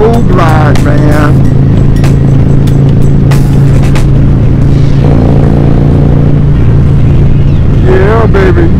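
A Harley-Davidson motorcycle rumbles steadily with a low, continuous engine drone, while people talk over it throughout.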